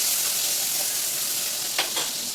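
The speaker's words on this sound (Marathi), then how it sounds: "गरम झालं की त्यानंतर टाकायचा आपला कांदा, छान असं परतून घ्यायचं." Chopped onion sautéing in hot oil in a pan for a chicken and fenugreek curry: a steady, close sizzle and crackle throughout, with a brief stir-like scrape near the end.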